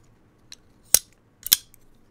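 Titanium framelock folding knife on ceramic bearings being snapped shut, two sharp, crisp metallic clicks about half a second apart, with a few faint ticks around them in an otherwise quiet room.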